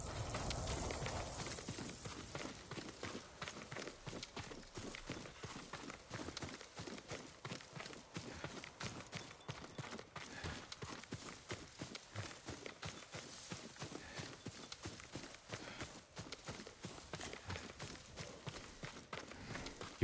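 Horse hooves in Ghost of Tsushima clop in a steady, quick walking rhythm through the whole stretch, fairly quiet and even, with no talking over them.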